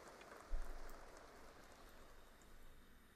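Steady rainfall from The Sims 2 video game, a soft, even hiss of rain with a faint thump near the start, low in level and with no voices.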